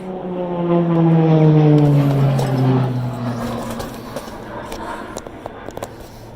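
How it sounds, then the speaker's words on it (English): A Spitfire flies over a village, its propeller engine droning loud and close with a falling pitch as it passes overhead, then fading into the distance. "Spitfire over the village."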